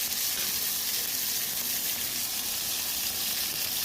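Prawns sizzle steadily in hot oil with whole garam masala spices, a dense, even frying hiss that stays close and loud throughout with no talking.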